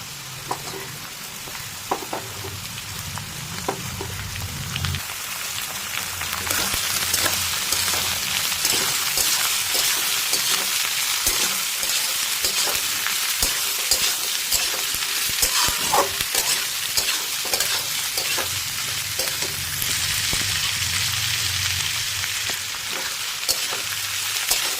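Potatoes and chopped onions frying together in a pan, a steady loud sizzle with frequent scraping stirs, the sizzle swelling after the first few seconds and holding on close by, with no voices.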